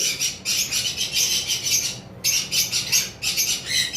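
Violet mask lovebirds at a bird farm squawking in harsh, shrill bursts, several birds calling close together in choppy repeated phrases with brief pauses.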